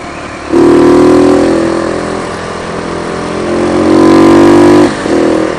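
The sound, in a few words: single-cylinder motorcycle engine and exhaust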